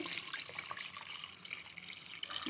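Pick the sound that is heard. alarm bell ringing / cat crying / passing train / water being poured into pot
water being poured into pot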